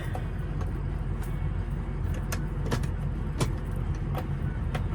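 A 2006 Ford F250 with the 6.0 Powerstroke diesel idles steadily while being shifted into four-wheel drive, with several scattered clicks and clunks rising over the constant engine drone.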